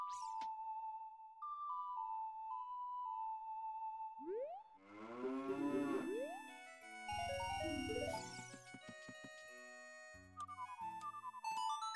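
Cows moo in the video game The Legend of Zelda: Ocarina of Time, a randomizer run, heard as a string of synthesized, pitch-sliding lowing calls mixed with chimes and melodic tones, clear and alone.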